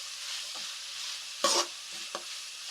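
Vegetables for egg fried rice sautéing in a pan with a pinch of ground garam masala, a steady soft sizzle broken by a few brief louder scrapes of stirring, close by and without talk.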